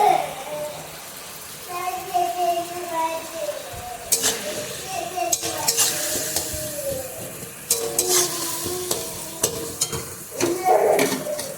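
Turmeric, chili powder and spices sizzle while being stirred in a frying pan, a steady crackle broken by sharp spoon scrapes and knocks, with people talking over it throughout.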